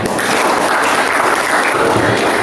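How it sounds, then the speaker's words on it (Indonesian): A classroom of students gives a classmate loud, dense, continuous applause, many hands clapping together at close range for the whole stretch, with no voices heard over it. "Beri aplaus untuk temannya"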